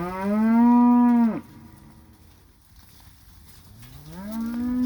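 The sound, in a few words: cattle mooing, cows bawling for their calves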